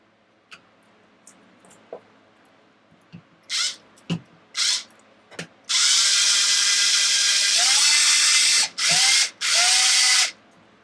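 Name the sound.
screws being driven into an RC car servo mount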